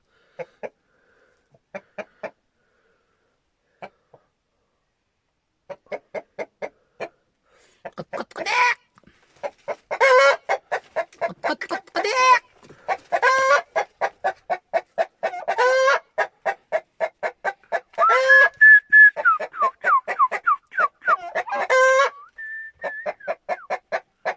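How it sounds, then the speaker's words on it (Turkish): Chickens and roosters cluck in a busy, irregular chorus, short calls starting sparse then growing dense and loud, with a few higher whistling notes. "Şurada tavukları, horozları içeri katacağız."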